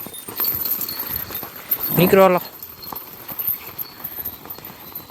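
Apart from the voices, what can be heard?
buffaloes walking, hooves clopping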